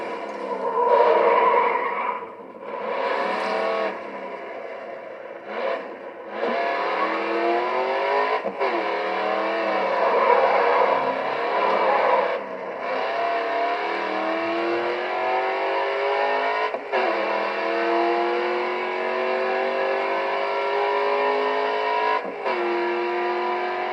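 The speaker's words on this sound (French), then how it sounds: "Allez, mets les gaz sur cette dernière ligne droite." A racing car's engine in an Xbox 360 racing game revs hard down the final straight, a loud continuous roar with rising pitch sweeps and brief dips at gear changes, alone without talk.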